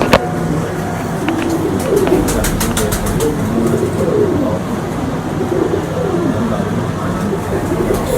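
Pigeons cooing close by in rolling, repeated calls over light background noise, with a few sharp clicks early on.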